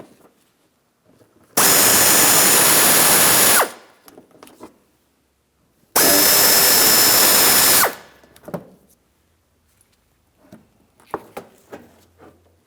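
A power tool with a 5.5mm socket spins out bolts on the bumper cover and fender liner of a 2007-2014 Ford Edge: two loud, steady, close whirring bursts of about two seconds each, then light clicks and handling noises.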